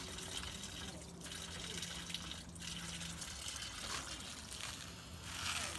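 Water running steadily from a tap as hands are washed outdoors, a faint continuous splashing trickle with a few brief louder bursts, no speech.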